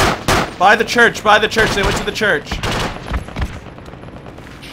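Bursts of rifle and machine gun fire from a squad in the military game Project Reality, on the Dovre map, crack in fast close volleys while players shout over the shooting.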